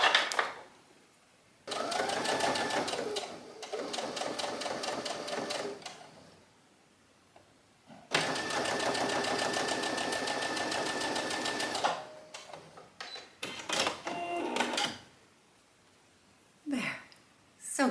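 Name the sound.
Brother self-threading sewing machine sewing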